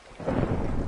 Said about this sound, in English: It's even raining outside.